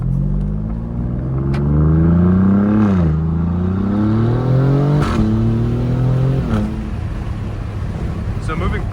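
A 2024 Alfa Romeo Giulia Quadrifoglio accelerating in manual mode, the engine loud and close from the cabin, revs climbing in repeated surges with a brief dip between gears, fading into steady road noise.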